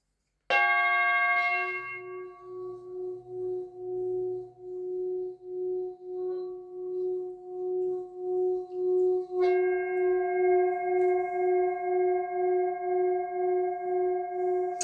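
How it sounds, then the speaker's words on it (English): A singing bowl is struck and rings with a sustained shimmering tone that pulses gently, then is struck again partway through and keeps ringing. "I'm going to close out with my beautiful healing sound bowl."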